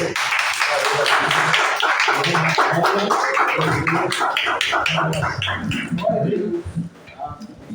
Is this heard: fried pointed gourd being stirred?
no